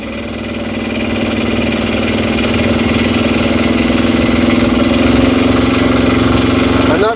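An Aixam Mega Van's small engine drones loud and close with a continuous vibrating hum that swells slightly as it runs through the CVT, steady to the end without speech.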